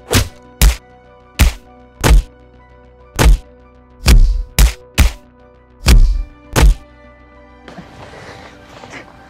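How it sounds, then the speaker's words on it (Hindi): Heavy punches and blows land during a fight, about nine solid thuds in an irregular rhythm, loud and close, followed by a softer rustling scuffle. "दीपक भाई मारो साले को।"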